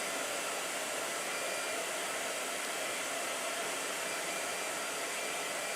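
A blow dryer runs steadily indoors, a constant airy whoosh with no breaks, fairly quiet and alone.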